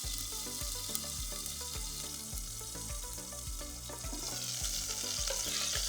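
Moist minced pork splatters and sizzles in a hot pot, a steady crackling hiss that runs under rhythmic background music with a repeating beat.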